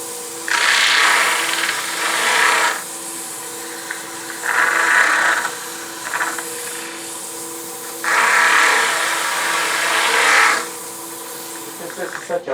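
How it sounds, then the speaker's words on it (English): An inertia sander works a hard dogwood bowl at fine grit, its steady buzzing rasp swelling in three or four loud passes and easing back to a lower hum between them, close up. "then I'm going to switch to an inertia sander for starting at 280"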